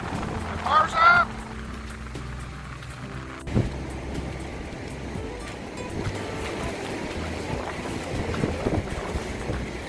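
Gale force wind buffets the microphone on a beach with rain, a loud rumbling roar with gusts over distant surf, and brief voices early on.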